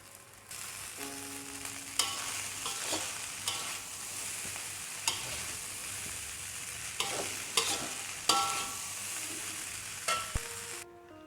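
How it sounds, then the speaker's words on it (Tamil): Dal fried rice being stirred in a hot pan, with steady sizzling of frying rice and intermittent scraping clinks of the spatula against the metal, moderately close and with no voices. "இது நல்லா மிக்ஸ் பண்ணி விட்டுக்கலாம்."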